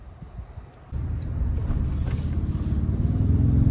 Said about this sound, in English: let's go ahead and take this 2025 Toyota Tundra Platinum out on the road for a test drive.